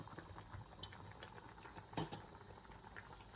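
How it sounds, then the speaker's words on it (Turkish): Bolognese pasta sauce boils in a pot with soft, continuous bubbling and popping, close and fairly quiet, with a couple of slightly louder blips and no talk. "Evet sosumuz kaynadı."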